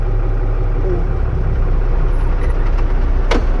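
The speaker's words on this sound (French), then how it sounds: "Et là, mon tracteur, il est à 550 tours." A tractor engine idles low with the power take-off engaged, a steady loud rumble that never lets up. Someone speaks over it, and a brief squeak cuts through near the end.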